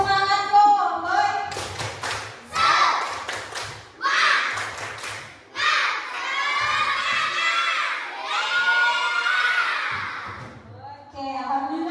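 A children's class chants the tepuk semangat cowboy clapping chant, loud shouted voices in rhythmic bursts mixed with claps and taps, sounding close and lively throughout.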